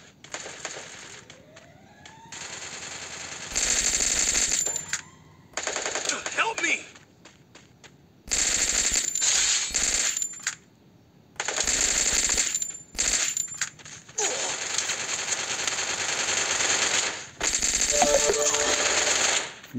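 Gunfire in Counter-Strike during a ranked match: repeated bursts of rapid shots with sharp mechanical clicks and reload sounds, separated by short silences. Game effects are loud and close.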